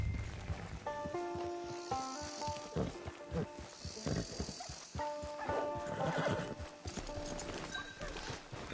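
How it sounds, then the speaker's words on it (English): A horse in Red Dead Redemption 2 neighs and whinnies several times over steady clip-clopping hooves, loud and close, with no talk over it. "Get your horse."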